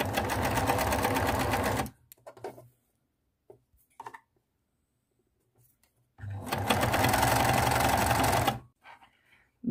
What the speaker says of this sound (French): on se place directement comme ça, et on pique au fur et à mesure en vérifiant